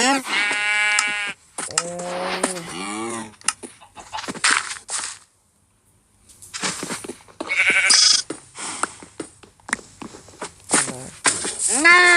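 Sheep bleat repeatedly in Minecraft, several short wavering calls up close, with a voice talking excitedly over and between them.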